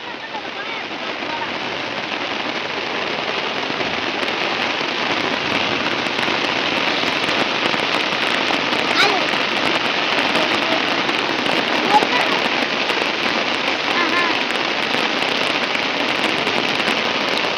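Heavy rain pours down steadily at night, a dense, loud, unbroken hiss of drops hammering surfaces close by, with scattered sharper patters throughout and no clear talking.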